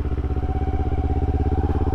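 A motorcycle engine runs close by with a steady, throbbing mid-pitched pulse that holds at an even level throughout.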